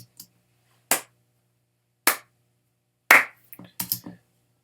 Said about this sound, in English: I'm going to record some claps